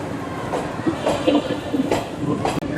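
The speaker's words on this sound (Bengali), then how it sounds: "এই বোলপুর স্টেশন ছেড়ে দিল ট্রেন" Train pulling out of Bolpur station in West Bengal, heard from on board as a rumbling carriage with faint rhythmic wheel clatter and rattles, moderately loud and continuous.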